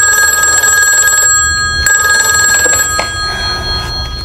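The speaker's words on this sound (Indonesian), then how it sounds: "mendapat telepon dari ruang kerja" An old telephone bell rings loudly and steadily nearby, a bright trilling tone in bursts with short breaks between rings.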